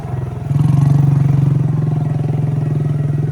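Two excavators and a bulldozer work on a road construction site, their diesel engines giving a loud, steady low rumble that swells after a brief quieter start and keeps a rhythmic chugging pulse.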